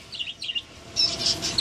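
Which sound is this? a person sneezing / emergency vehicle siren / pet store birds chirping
pet store birds chirping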